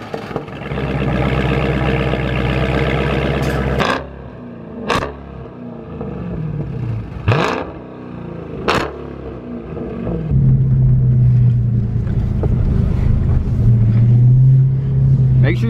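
2017 Dodge Charger Scat Pack with a 6.4 liter V8 SRT Hemi engine, a loud close rumble broken by several sharp revs, then settling into a steady deep idle, with someone talking over it.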